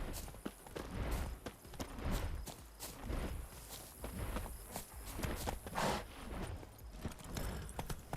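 The horse Roach gallops in The Witcher 3, with fast, rhythmic hoofbeats thudding continuously at moderate distance, layered with game ambience.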